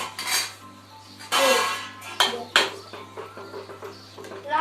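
Maggi noodles being stirred in a metal pot on a gas stove, with sharp clanks and scrapes of a utensil against the pot in irregular bursts over a low steady hum.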